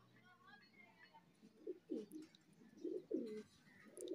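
A pair of teddy pigeons coos close by in a series of soft, throaty, low coos that come in short repeated bursts, growing a little stronger toward the end, with faint background noise.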